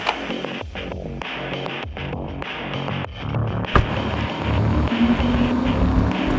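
A Ferrari 296 GTB plug-in hybrid sports car pulls away quietly in electric mode, giving a low hum and road and wind noise that slowly grow louder, with a brief knock partway through.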